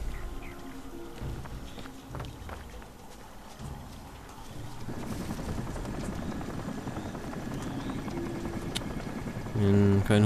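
A helicopter's steady rotor drone in the video game Crysis grows louder and denser halfway through, with faint clopping and scattered game effects mixed in.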